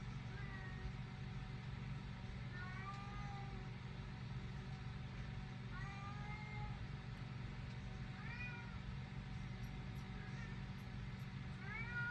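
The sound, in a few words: cat meowing and scratching the back of a chair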